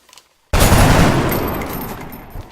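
A soldier's gunshot in XCOM Long War: after brief quiet, one sudden loud close blast with a rumbling, crackling tail that slowly fades over two seconds.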